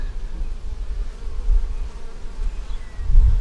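Honeybees hum steadily at the hive frames in a close, continuous drone that swells slightly near the end, with no voices over it.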